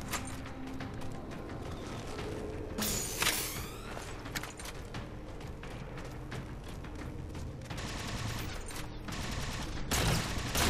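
Beam rifle fire in Halo 4 on the Requiem level rings out as sharp, loud shots amid dense battle noise and mechanical clatter, with several bursts spread through the stretch.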